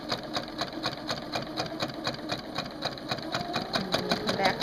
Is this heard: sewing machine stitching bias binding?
yes